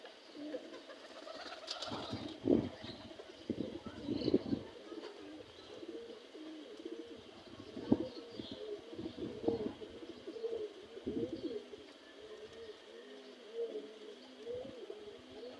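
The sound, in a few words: pigeon cooing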